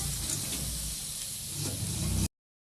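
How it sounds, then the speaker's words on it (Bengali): Chillies fry in a pan with a dense, steady sizzling hiss, close and even for about two seconds before cutting off abruptly into silence. "লঙ্কা ভেজে নিব"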